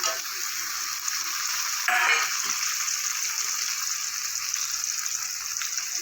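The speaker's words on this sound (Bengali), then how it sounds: "এবার আমি দেবো কেটে রাখা টমেটো" Chopped tomato goes into onion frying in mustard oil in a pan, giving a steady sizzle with a brief louder hiss as the tomato lands, then continued frying.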